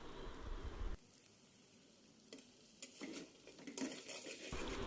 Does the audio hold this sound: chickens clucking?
no